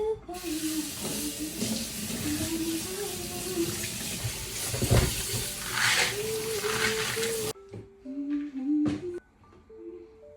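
Containers being washed under running water at a kitchen sink, a continuous loud gush from the tap with clattering plastic, then the flow stops and short rinsing bursts and knocks follow.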